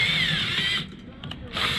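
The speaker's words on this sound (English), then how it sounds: "I'm gonna use these self-tapping screws for a minute. Going in right here." A power drill drives self-tapping screws into a metal beach cart, a close high whirring burst that drops out briefly and then resumes over a short span.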